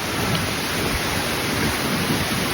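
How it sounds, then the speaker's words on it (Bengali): Heavy rain pours down on a windy village day, a dense, steady, loud roar of downpour with no pauses across the whole stretch. "বৃষ্টি পড়ছে একদম জোরে জোরে"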